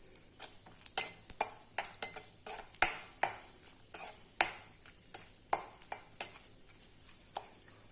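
Broken cashews going into melted ghee in a pan, with a string of light metallic clinks and taps from stirring, irregular and close.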